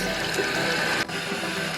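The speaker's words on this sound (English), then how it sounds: "Rinse your hands." Tap water runs steadily for hands being rinsed at a sink, a continuous broadband splash that dips briefly near the end before carrying on.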